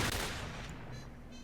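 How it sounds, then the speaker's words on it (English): Gunfire in Stalker: Call of Pripyat, a burst of distant shots from a camp guard, loud at first then settling into a rumbling tail with no talk over it. "Somebody shooting at me?"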